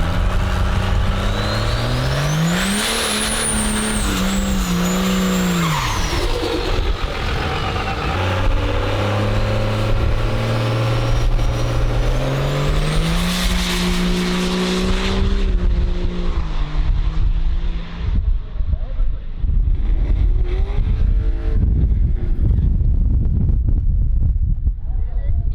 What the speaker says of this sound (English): We've done a bunch of burnouts out here